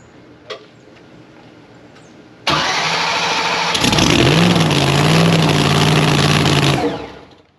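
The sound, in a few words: race car engine starting and revving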